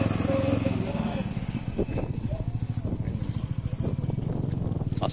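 Tricycles and motorcycles pass along a quiet provincial road in Quezon, their engines buzzing and rumbling steadily nearby while people talk over the traffic noise.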